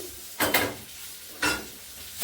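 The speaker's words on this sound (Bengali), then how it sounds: "এখানে একটু আসলে শর্টকাটে ইলিশ মাছ ভাজা বসাই দিছি" Hilsa fish frying in a pan, with two short bursts of sizzling crackle, the first a quick double surge and the second a single flare a second later, over a quiet steady background with no talking.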